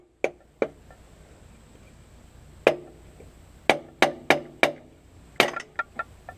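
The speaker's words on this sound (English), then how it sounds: "You're going to need a hammer and our wooden block." A hammer striking a wooden block to loosen a hydraulic line on a John Deere 1010 tractor: about ten sharp, close knocks, first two isolated, then a quicker cluster of taps, each ringing briefly before dying away.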